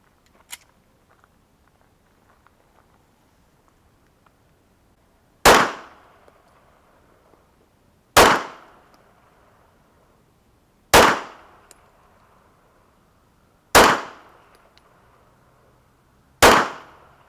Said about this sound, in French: On va essayer maintenant avec des balles à tête creuse, avec un Glock 43, pour voir si les balles ricochent ou pas.